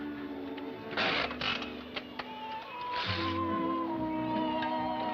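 A child's toy machine gun rattles in two short mechanical bursts over a steady musical background in a 1941 film scene.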